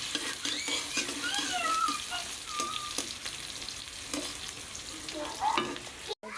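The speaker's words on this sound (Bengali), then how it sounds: "পেঁয়াজগুলো ভাজা ভাজা করে হালকা বাদামি রং করব" Onions frying in a pan as they cook to light brown, a steady close sizzle with occasional stirring scrapes, a few faint high chirps drifting through, no talking.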